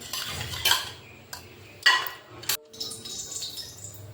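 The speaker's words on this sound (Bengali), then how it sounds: "1 চামচ ধনে পাউডার, জল দিয়ে গুলিয়ে নিচ্ছি।" Coriander powder stirred into water with a metal spoon: a few sharp, close clinks of the spoon against the bowl between softer scraping swirls, fairly quiet, with no talking.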